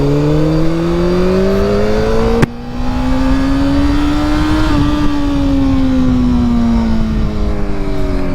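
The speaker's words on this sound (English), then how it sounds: "Oh no, who's driving my motorcycle?" A motorcycle engine revving loud and close, its droning tone climbing and then sliding back down, with a sharp click partway through and no talk.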